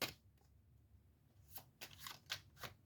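Playing cards are riffled and shuffled by hand, a faint soft rustle followed by several quick, crisp bursts of cards snapping together near the end, with no talking.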